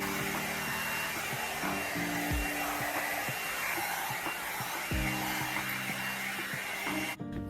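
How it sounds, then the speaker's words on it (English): A hair dryer with a diffuser, set on cool, blows on curly hair with a steady, loud airflow roar. Brief dips and bumps come as it moves around the ends, and it cuts off abruptly right at the finish. "I'm gonna go in with my diffuser on cool and just kind of hit these"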